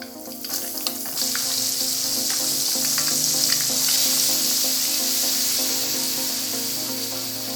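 Chili frying in oil over a low flame for jengkol rendang, a loud, steady hiss and crackle of sizzling that holds throughout, with a few scattered pops near the start.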